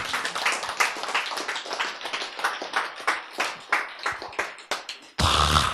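Scattered clapping rises from an audience at a Korean lecture on cancer drugs, a rhythmic run of individual claps that slows toward the end before a sudden louder burst cuts in.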